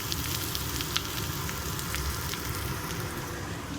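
Thinly sliced potatoes sizzle in hot oil in a pan for aloo curry, a steady, even frying hiss with faint crackles, fairly quiet and continuous, with no talking.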